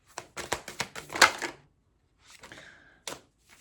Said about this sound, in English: I shuffled this deck.